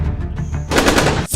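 A burst of loud, close semi-automatic weapon fire: rapid cracking shots blend into a dense roar that stops abruptly, then resumes.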